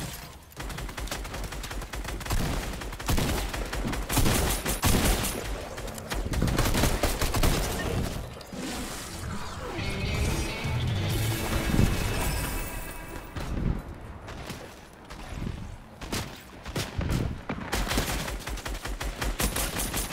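Dense, continuous gunfire from a Fortnite Team Rumble match, rapid volleys and bursts layered over one another and rattling loudly throughout, with a few heavier impacts mixed in.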